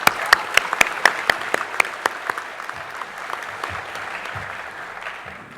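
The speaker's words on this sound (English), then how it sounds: "Round of applause, yes." Audience applause at a 2017 Hawke's Bay graduation ceremony, opening with several loud, distinct sharp claps up close, then settling into a steady wash of many hands clapping that gradually thins.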